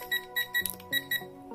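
Alarm beeps from an HTC-1 digital LCD thermometer and humidity meter clock: five short, bright electronic beeps in a quick, slightly uneven series, close and clear over a quiet background.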